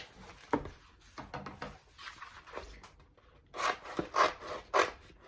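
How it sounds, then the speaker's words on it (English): A fresh piece of material is cut off nearby, giving quiet scattered rustles and scrapes followed by several louder rasping cutting strokes toward the end. "Let me just cut off a new piece."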